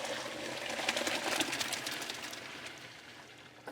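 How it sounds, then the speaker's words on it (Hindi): Water is strained off food through a strainer in a Pakistani television cooking-show kitchen: a steady, close splashing rush that swells and then gradually tapers away. "इसे हम छान लेते हैं।"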